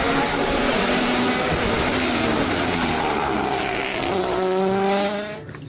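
A toy racing car is paired with a loud, steady race-car engine roar that rises and falls with tire-squeal tones, running nearly the whole time before fading at the end.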